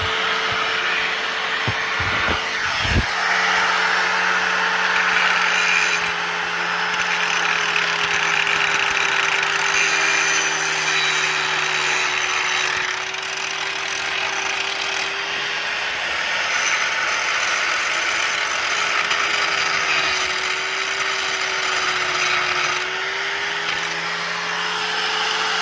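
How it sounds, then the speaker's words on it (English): A power grinder runs steadily for a long stretch during a sway bar link replacement, giving a continuous whirring hum that wavers slightly in pitch. A few sharp mechanical clatters come near the start, and no voice is heard. "Turn my grinder on. And you push it down."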